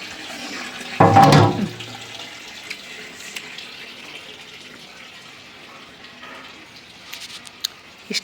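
A household tap runs at full force, with a loud gushing burst near the start settling into a quieter, steady flow of water.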